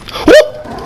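A single short, loud dog bark in Watch Dogs 2, close and abrupt, followed by a brief fading tail.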